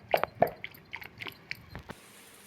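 Cooled, cooked dal is lightly mashed with a dal masher, giving a handful of soft, wet squishes and taps close up in an irregular rhythm, with no talking.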